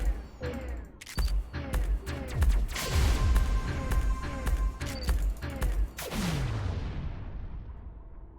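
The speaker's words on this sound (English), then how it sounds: "All these turrets." Turrets firing in the video game Spheriums: a string of sharp booming shots with ringing, descending whooshes, fairly loud and dense for several seconds before trailing off.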